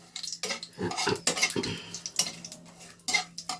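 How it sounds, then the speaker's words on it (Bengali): Vegetables with bay leaf being stirred in a pan, a rapid series of scraping and clinking utensil strikes against the metal with light sizzle between, close and irregular. "একটু নেড়ে চেড়ে নিয়েছি"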